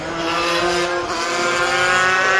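Racing scooters scream around the Cadwell Park circuit during a Super Scooters race, a loud, sustained high-revving engine whine with no break.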